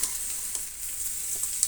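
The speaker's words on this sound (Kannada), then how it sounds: "ಈಗ ನಾವು ಆಲೂಗಡ್ಡೆ ಬೇಯಿಸಿರೋದನ್ನು ಸೇರಿಸೋಣ. ನೀಟಾಗಿ ಮಿಕ್ಸ್ ಮಾಡ್ಕೊಳ್ಳೋಣ." Boiled potatoes are stirred in a sizzling pan on the stove, with a spoon scraping and clicking in short strokes over a steady background fry sizzle and no voices.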